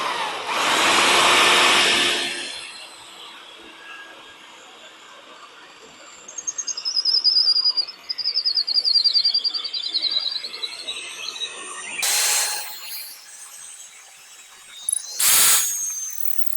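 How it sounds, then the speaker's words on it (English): A power drill fitted with a 12mm bit whirs in several separate bursts during a raised sleeper pond build, each a loud, close, rising whine, with quieter squealing and faint background chirps between runs. "Let's go for this drill bit next, which is 12mm."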